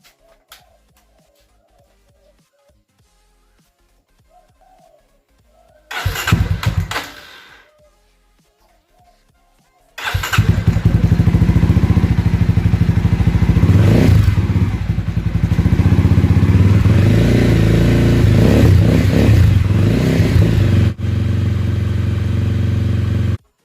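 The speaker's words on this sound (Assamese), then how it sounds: "তাৰ আগতে বাইকখন এবাৰ ষ্টাৰ্ট কৰি চাই লওঁ ষ্টাৰ্ট হয় না নহয়" After a short cranking burst, a Mahindra Mojo motorcycle engine starts and settles into a loud, steady idle nearby that runs for over ten seconds.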